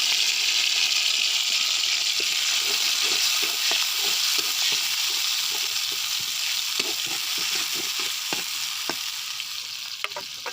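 Chopped onions fry in hot oil with a loud, steady, close sizzle throughout, broken by occasional soft taps and scrapes of stirring, with no voices.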